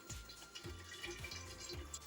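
Water from pressure-cooked lentils drains through a sieve, dripping and trickling in soft, irregular spurts that are close by and fairly quiet, with no voices.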